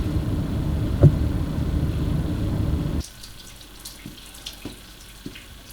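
A faucet runs steadily into a sink or laundry tub in a home laundry area, a loud close gush of water that cuts off abruptly after three seconds, leaving faint drips and small knocks.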